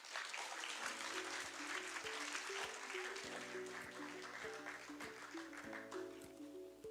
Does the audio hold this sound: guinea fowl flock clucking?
no